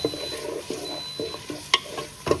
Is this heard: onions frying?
yes